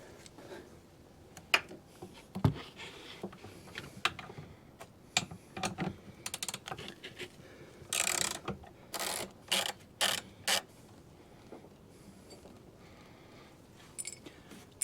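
A ratchet works a 13 mm bolt off the battery of a BMW F30, giving faint, intermittent bursts of rapid clicking separated by quiet pauses.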